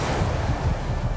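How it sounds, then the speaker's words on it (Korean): Rough winter sea waves surge and wash around a small 29-ton fishing boat, a dense roaring rush with wind buffeting the microphone, loud and continuous. "거친 파도를 헤치고"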